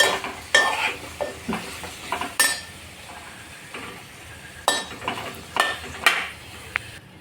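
Drumsticks being stirred into an onion and tomato curry in a pan, with repeated scraping stirs and clinks of a utensil over a soft sizzle, close and fairly loud, no talking.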